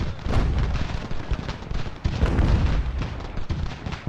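Artillery cannon fire in the Ultimate General: Revolution battle game, a steady barrage of deep booming blasts rolling one after another with no pause, loud and dense throughout.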